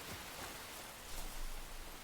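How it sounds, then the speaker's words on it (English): Steady rain pours down in the open-world survival game Enshrouded, an even wash of dense hiss with no voices over it. "Just while it's raining, I don't really want to be exploring while we have the wet status."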